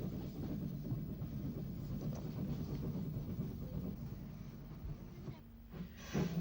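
An Isle of Wight railway train pulls out along a double-track section, giving a steady low rumble and hiss of wheels and running gear throughout, with a brief change in tone near the end.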